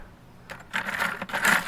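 Small metal and plastic RAM stick sockets and connectors salvaged from e-waste clink and rattle against each other in a bucket, a brief burst of bright, jangling clatter after a quiet start.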